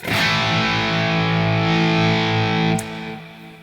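An electric guitar played through a gain amp plugin set to full gain with the Heatpressor off: one loud, sustained distorted chord rings, then is cut off, leaving a brief fading tail.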